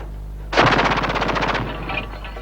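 A multi-barrel machine gun fires a loud, continuous burst at a captured base, a rapid rattle of shots lasting about a second, then fading into echo.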